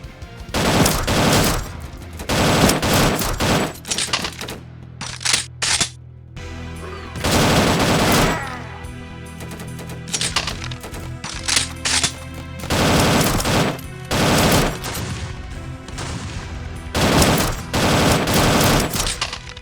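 Automatic gunfire from a gun in the video game The Undead Coming, loud rapid bursts repeating in clusters with short gaps between them, dense and close, with no talking.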